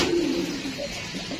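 A racing pigeon in a loft coos, a low steady throaty call close by over a constant background hum, with no talk.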